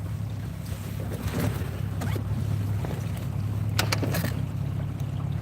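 Motorboat running down a river on a chilly morning, a steady low engine drone with wind buffeting the microphone throughout, close and continuous, with no talking.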